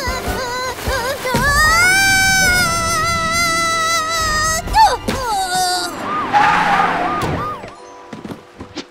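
A cartoon police car siren blares loud and close, a bright, rising wail that holds steady for several seconds, followed by thumps and short animated sound effects.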